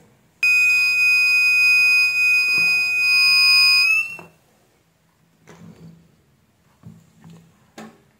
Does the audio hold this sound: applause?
no